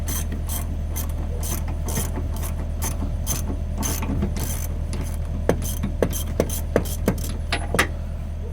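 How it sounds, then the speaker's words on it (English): A wedge lock coupler is worked loose on a John Deere 50P excavator with hand tools, giving close metallic ratcheting clicks over a low idling drone, then a run of sharper, spaced metal clanks near the end. "next up we gotta take our wedge lock off."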